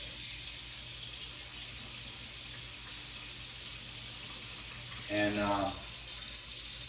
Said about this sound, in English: So then you take this stuff and you put some warm water to it.